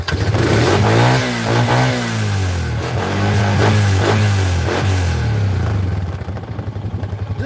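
An engine revs up and drops back repeatedly, loud and close, with surging pitch sweeps before settling toward idle at the end.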